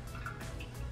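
Water spooned into cookie mix, a brief soft trickle and drip lasting about a second, quiet and close.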